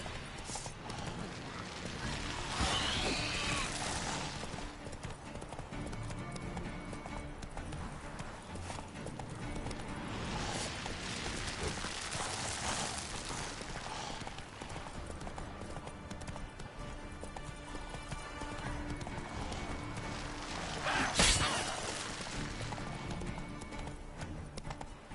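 Roach, a horse from The Witcher, clip-clops with steady, rhythmic hoofbeats throughout, brief swells of louder movement rising now and then over a constant outdoor background.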